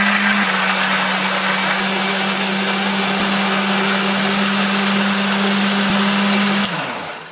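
A loud blender grinds chili and spices with a little water, steadily with a constant high whir for several seconds, then winds down at the end.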